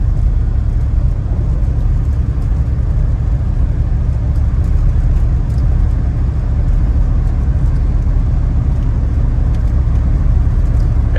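A restored 1990 Chevrolet Suburban V1500 Silverado 4x4 driving with its engine droning steadily and loudly from inside the cabin, a continuous low rumble as it accelerates through gear changes.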